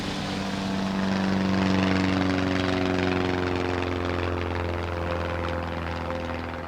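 Light aircraft climbing over the Pyrenees, its engine a loud, steady propeller drone with a sustained tonal hum that swells slightly, then eases, with no voices.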